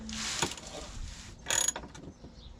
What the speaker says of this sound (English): I'm just gonna turn your ratchet to tighten